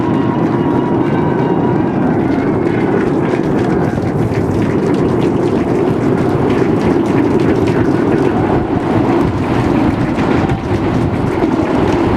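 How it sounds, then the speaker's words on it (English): SpaceX Starship Flight 8 lifting off on 33 Raptor engines, a loud, continuous low roar and rumble that holds steady throughout with no pauses. "We are seeing 33 out of 33 Raptor engines ignited"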